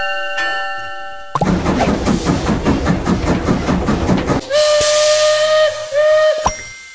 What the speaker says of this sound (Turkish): Trenle hemen seyahat çıkmış.